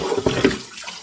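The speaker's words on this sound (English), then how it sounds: "So again, rinse with water. Go ahead, cold water again, do a final wash" Cold tap water splashes while a cooking pot is rinsed out, short uneven gushes and clatters that fade into a softer trickle over about a second.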